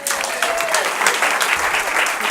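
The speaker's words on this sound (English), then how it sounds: "Give her a round of applause" A stand-up comedy audience applauds, a dense, loud clapping that holds steady for the whole clip with no break.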